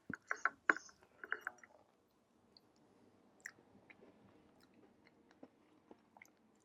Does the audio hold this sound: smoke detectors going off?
no